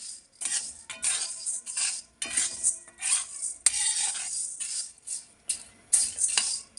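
Half a bowl of jowar (sorghum) grains being dry-roasted in a pan over a low flame, with repeated scraping and stirring strokes and a faint crackle, close and fairly quiet, with no talk.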